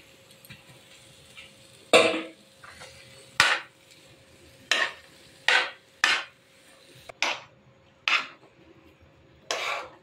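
Spoon scraping and knocking against a pan while stirring spiced chilli potatoes mixed with cucumber, onion and tomato, about nine sharp clinks spaced irregularly, close and fairly loud over a quiet background.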